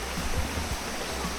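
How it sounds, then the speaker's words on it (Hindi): Water pours steadily through a bamboo pipe in a village in Mawlynnong, Meghalaya. The rushing, splashing flow is loud, close and continuous, with no voices over it. "वो जो पानी का फ्लो है यहाँ पे इस तरीके से इन्होंने पाइप लगा रखा है"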